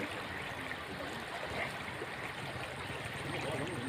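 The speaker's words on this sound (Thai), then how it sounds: "น้ำมาแรงมากนะคะเนี่ยน้ำมาแรงมากเลย" Strong floodwater rushing steadily over a road, a dense continuous wash of flowing water heard close and unbroken throughout, with faint voices in the background.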